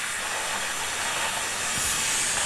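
Steam vents forcefully from a pot of soup after boiling, a loud, steady hiss that fills the whole clip with no speech.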